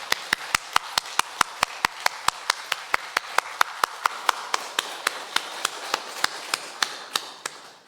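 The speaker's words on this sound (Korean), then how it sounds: "우리도 힘찬 박수로 영광 돌립니다" Congregation at a Korean church Sunday worship service clapping in a steady, rhythmic beat of sharp claps, about three per second, sustained and evenly paced with no voices over it.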